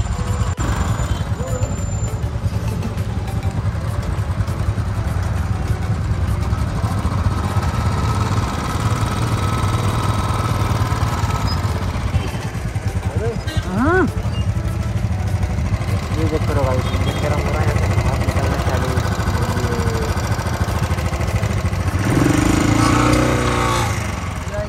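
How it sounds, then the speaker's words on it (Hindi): A vehicle engine, already started and running hot, idles with a steady low rumble throughout, while someone talks over it and a brief louder burst comes near the end. "अभी गाड़ी को स्टार्ट कर दिए, थोड़ा सा इंजन हॉट गया इसका"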